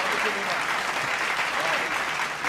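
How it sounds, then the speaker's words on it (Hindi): Crowd at a Hindi political poetry gathering clapping in a dense, continuous burst, loud and close, with a faint murmur of voices under the sustained applause. "तालियां बजा के मिलके बना दो आप लोग।"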